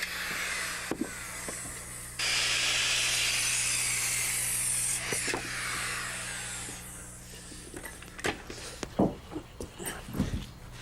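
A saw set to an 18.5-degree angle cuts wooden wall studs and cripples to length while framing a wall. A long, steady rasping cut is followed by several sharp knocks and clatters of the wood.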